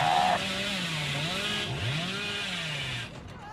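The Hillbilly's chainsaw in the Dead by Daylight video game revs loudly and continuously, its buzzing engine pitch rising and dipping in waves before easing off near the end.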